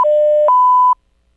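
A telephone collect-call signal in Brazil: a loud, clean electronic beep that holds, then steps up to a slightly higher pitch before cutting off into silence.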